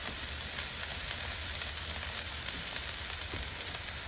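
A smash burger sizzles on a Blackstone griddle, a steady, dense crackle and hiss that carries on without pause, close and loud with no talking.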